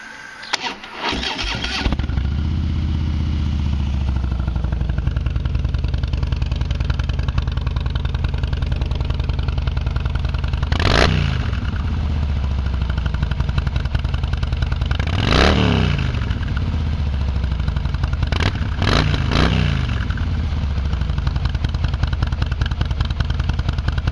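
A 2017 Harley-Davidson Softail Slim motorcycle engine starts and idles steadily with a deep, loping rumble, with three or four sharp throttle blips revving it up and back down over the continuous idle.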